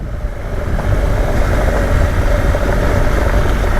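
BMW GS Rallye motorcycle engine pulling steadily and loud up close as it goes into second gear on a winding Andalucian road, with a constant low rumble and wind, no talking.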